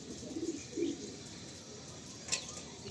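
Golden-eyed pigeons coo softly twice nearby, followed by a brief higher chirp against a quiet hissing background.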